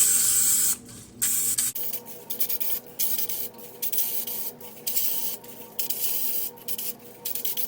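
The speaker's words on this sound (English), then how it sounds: "we spray our muffin holders really well" Cooking spray can hissing onto muffin holders in short bursts, about nine close, sharp sprays separated by brief pauses, the first one longer.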